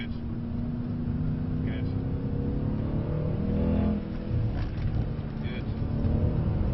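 A 2024 Mercedes C63s accelerating hard on a track, the in-cabin engine note rising through the gears with a brief lift between, while an instructor talks over it.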